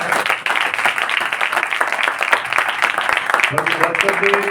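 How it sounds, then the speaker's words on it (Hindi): A church congregation claps together in a dense, lively burst, with faint voices mixed in and music rising near the end. "सभी परमेश्वर की महिमा के लिए ताली मार सकते हैं।"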